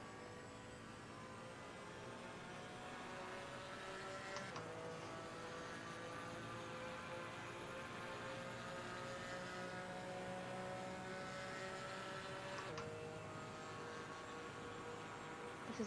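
A GT racing car engine at full throttle around Monza in a sim racing game, a loud, sustained high-revving drone with rising pitch and a couple of brief gear-change dips, alone without talk.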